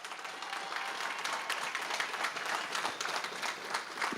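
A round of applause for graduates at the San Juan College 2024 graduation, heard as a faint, steady wash of many hands clapping in a large venue.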